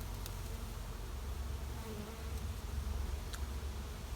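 Honey bees buzz around a backyard hive, a continuous droning hum of many insects swelling slightly louder toward the end, with no voices.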